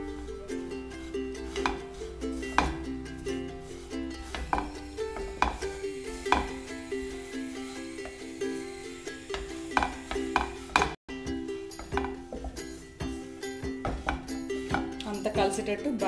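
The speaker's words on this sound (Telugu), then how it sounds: "అది కూడా వేసేసుకోవాలి. వేసుకొని ఒకసారి కలుపుకోవాలి." Gulab jamun burfi mixture with fried coconut powder is stirred in a pan, a steady run of close scraping and clinking strokes of a spoon against metal, with someone talking throughout.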